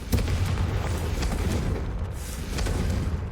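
Confringo fire spell blasting in the Hogwarts Legacy video game, a run of deep booming explosions and rumbling impacts that fill the clip without a break, close and loud.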